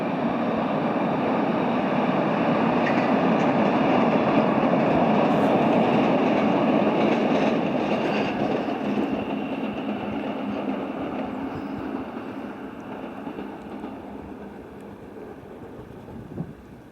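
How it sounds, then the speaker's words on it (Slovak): A train rolls past near the rail bridge over the Morava river by Devínska Nová Ves, a broad, steady rumble with clattering wheels that peaks early, then slowly fades into the distance. "Možno ešte pôjde nejaký vlak."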